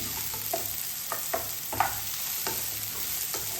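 Sautéing in a pan: a bright continuous sizzle under repeated light scrapes and taps of a spatula, uneven in rhythm and close by, with no voices.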